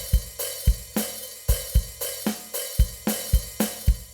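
A drum kit plays a repeating groove with a fill in a song: punchy kicks and crisp snare or tom hits in a steady syncopated pattern, moderately loud and close, with no talking.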